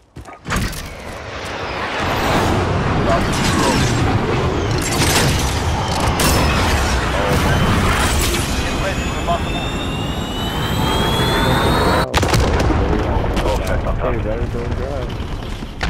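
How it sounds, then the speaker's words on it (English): Jets roar overhead during an allied precision airstrike in the Call of Duty Modern Warfare multiplayer game. A loud, sustained engine rumble rises and sweeps past, with blasts and gunfire mixed in and players talking over it. "Allied precision airstrike incoming."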